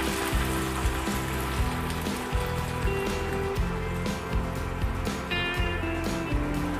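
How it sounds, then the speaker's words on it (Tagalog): Pork belly simmering in coconut milk in a pot, a steady close bubbling and sizzling texture running continuously over a low rumbling hum, moderately loud and without talk. "Ilagay na natin yung unang piga ng gata."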